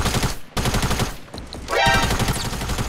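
Rapid automatic gunfire from the Fortnite video game crackles almost continuously, close and loud, with a whooshing effect partway through.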